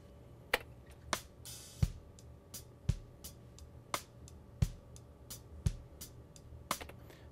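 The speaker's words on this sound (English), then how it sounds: "This is the sound of the drums running through the LTD2" Sharp, punchy drum hits at a steady moderate pace through an LTD2 compressor plugin, tight snare and kick strikes with short decays and a faint background hum between them.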